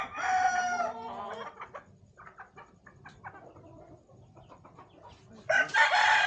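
A Boston Gold rooster crows nearby, one crow at the start and another at the end, with softer clucking and farmyard bird chatter between.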